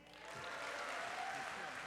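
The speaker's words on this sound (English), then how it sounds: "a last round of applause for District Secretary Giselle Holder." Applause from a conference audience at a Rotary District opening ceremony in Trinidad, a steady, dense wash of clapping that swells early and holds evenly throughout.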